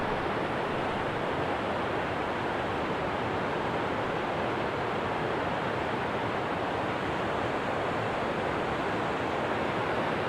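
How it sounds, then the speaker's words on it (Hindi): Bhedaghat waterfall on the Narmada river roars as a steady, dense wash of broadband rushing water, loud and unbroken throughout with no voices. "ये देखिए ये रहा जलप्रपात, बिल्कुल नज़दीक आ गया हूँ मैं जलप्रपात के"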